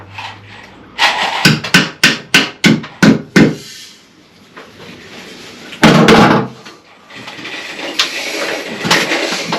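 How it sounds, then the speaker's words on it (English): A hammer drives a red plastic wall plug into a 6mm hole drilled into a wall, with a quick run of about eight evenly spaced sharp knocks, then one heavier bang and some rustling handling noise. "Hammer the plug right in."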